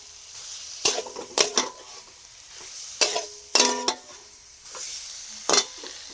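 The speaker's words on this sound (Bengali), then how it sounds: "এটাকে খুব সুন্দরভাবে নেড়ে চেড়ে আর একটু লাল লাল করে ভাজবো" Potatoes and eggs with turmeric sizzle in a pan while a utensil stirs and scrapes them, giving several sharp clanks and scrapes over a quiet, steady frying hiss.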